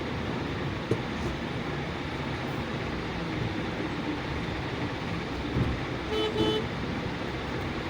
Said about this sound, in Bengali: হর্ন দিয়ে জানিয়ে দিলাম।